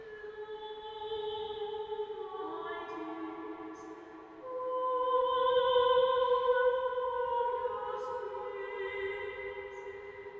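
A female singer holds long, sustained notes that bloom and linger in the simulated reverberation of York Minster cathedral, with pitch shifts between phrases and a dense, spacious wash of echo.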